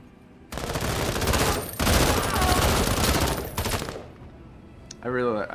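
Sustained rapid automatic gunfire in MENACE, a loud dense fusillade of machine-gun bursts lasting several seconds before cutting off, followed by a brief voice.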